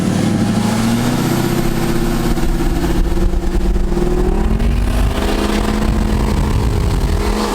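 A stock 2011 LML Duramax diesel pickup with the intake deleted and a lift pump added pulls hard under acceleration, a steady loud rumbling drone with rising engine tones, close and continuous with no talking.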